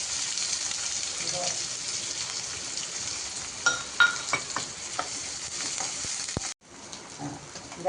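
Chopped onion frying in oil tempered with asafoetida, cumin and crackled mustard seeds for a pumpkin-leaf curry, a continuous close sizzle with stirring scrapes and a few clinks, briefly dipping before resuming.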